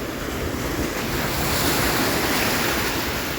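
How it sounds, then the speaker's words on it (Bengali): Salty sea waves break continuously on the shore, a loud, dense roar of surf mixed with wind rushing over the microphone. No one speaks. "কিরকম কিরকম ঢেউ এনি টাইম"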